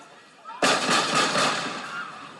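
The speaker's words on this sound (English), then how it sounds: "I heard multiple gunshots." Several gunshots erupt abruptly and loudly, merging into a dense, crackling volley that lasts about two seconds over faint background noise.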